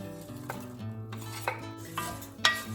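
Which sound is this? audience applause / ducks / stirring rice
stirring rice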